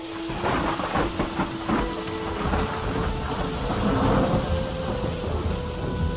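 Steady heavy rain pours down throughout, with deep rolling thunder rumbling beneath it, loud and close, and no voices present.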